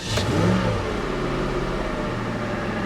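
An engine on a 1985 Chevy El Camino SS revs briefly, then the sound sinks to a low, steady, rough hum close by, with no talking.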